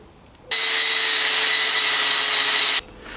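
A power grinder roughly grinds an old hammer head into a small adze, a loud, steady, high whine with a constant tone that starts abruptly, holds for about two seconds and stops sharply.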